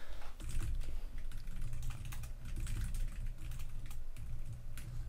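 Fast, steady typing on a computer keyboard while a short C program is written, a dense run of close key clicks with no pauses and no voices.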